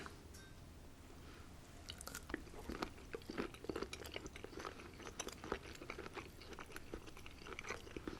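Close, quiet chewing of a shrimp dinner, with repeated soft crunches and wet squishes in an irregular rhythm and no speech.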